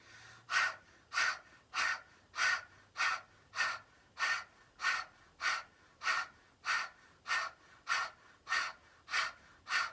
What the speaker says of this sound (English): powerful exhale to draw the belly in, and we'll begin